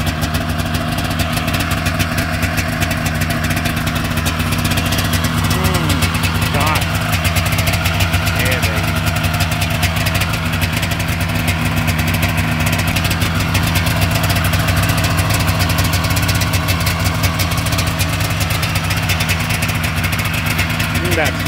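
1995 Polaris Indy 500 EFI snowmobile engine idling, a loud, close, steady rattling two-stroke burble that runs unbroken throughout.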